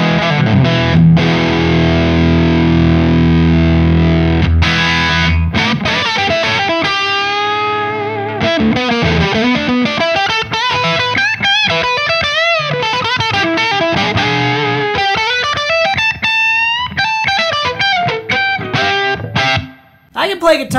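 An electric guitar runs through a Synergy BMAN preamp, thick fuzzy distortion on sustained chords and bending lead lines, loud and continuous for about twenty seconds.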